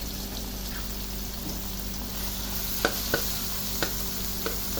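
Rinsed shrimp paste dropped into a hot pan with tomato crackles in a steady sizzle, with a few sharp ticks and pops spaced out toward the end.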